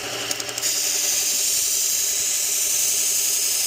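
Single bevel knife edge being sharpened, a steady, close, continuous grinding hiss with a few brief taps at the start.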